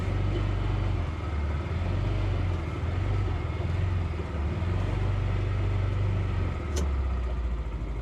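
An affordable side-by-side off-road vehicle drives with a steady, rumbling engine drone that rises and falls slightly, close and continuous, with a single brief sharp click near the end; no speech.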